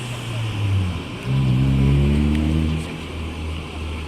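A PO ANS executive-class bus pulls into Bukit Surungan terminal with a loud, close, deep engine drone that swells as it rolls in, then eases slightly.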